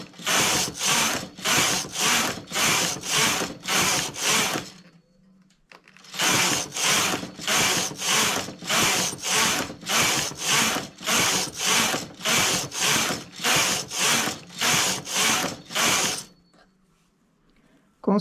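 Knitting machine carriage sliding back and forth across the needle bed while knitting a child's dress, a rhythmic series of close, rasping swishes in two runs separated by a short pause.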